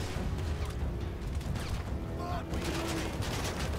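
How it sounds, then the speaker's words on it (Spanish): Bursts of gunfire in GTA 5 striking the sheet-metal body of a car, loud and dense over a busy game soundscape with constant background noise, crackling impacts and rattling throughout. "Han pegado todos los tiros en la chapa, ¿la has visto?"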